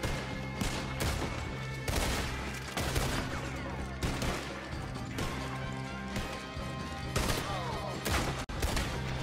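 Gunshots crack in rapid, repeated bursts during a Red Dead Redemption 2 shootout, loud and dense throughout with hard echoing impacts and no spoken words.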